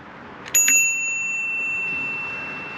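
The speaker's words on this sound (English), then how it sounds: "Make your presence known, which have a bell for that." A bicycle bell rings twice in quick succession on a forest trail, bright and close, its metallic tone ringing out and fading slowly over a quiet background.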